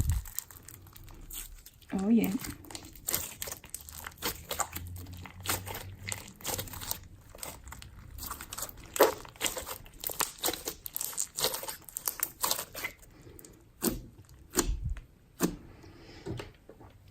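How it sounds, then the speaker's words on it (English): Slime with beads being mixed, giving sharp irregular crunches and crinkles close up, some in quick bursts, with a person speaking briefly between them. "Oh, another with beads. Crunchy."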